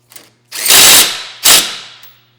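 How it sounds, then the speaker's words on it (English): A ratchet tightening a bolt on the upper arm of an elliptical machine, a loud close burst of clicking, then a pause and a second shorter burst. "let's actually secure the upper section of the arm first by introducing the bolt that we took out before"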